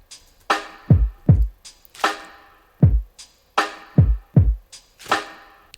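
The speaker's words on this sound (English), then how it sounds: "And in total, the drum loop sounds like this." A full sampled drum loop built from a kick, a snare, a rustled receipt and a shaken vinegar bottle, topped with a simple hi-hat, plays as a steady groove of punchy low hits and crisp bright shakes, loud and alone.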